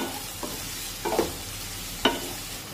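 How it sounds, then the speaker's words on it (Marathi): Chopped onion sautéing over a medium flame for soybean chunk bhurji, a soft continuous sizzle broken by three distinct scraping stirs of a spatula in the pan, close and without speech. "आता गॅसची फ्लेम मध्यम ठेवून हा कांदा हलकासा तांबूस रंगावर येईपर्यंत परतून घेऊया"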